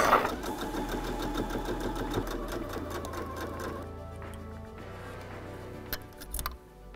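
A Silvercrest sewing machine stitching a fleece vest runs at a fast, even mechanical rhythm, then slows to a quieter whir before a few brief clicks and knocks at the end.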